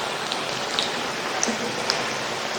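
Samosas deep-fry in hot oil in a kadhai over a medium flame, giving a soft, even sizzle with a few faint pops and no talk.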